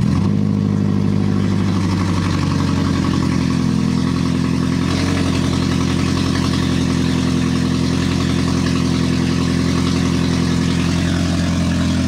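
A Toyota Prius engine idles steadily at close range, a loud continuous low hum with a slight shift in tone partway through, and no talking over it.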